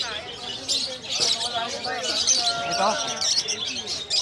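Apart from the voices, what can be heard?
caged pet birds chirping at a bird market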